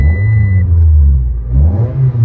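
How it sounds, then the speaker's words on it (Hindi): A car engine is revved in place, its deep rumble rising and swelling, then easing before climbing again, loud and close with no voices over it. "अब मैं इसे रेस दूंगा।"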